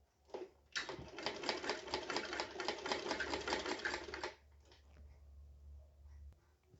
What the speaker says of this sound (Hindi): इस तरह से सिलाई कीजिएगा आराम आराम से।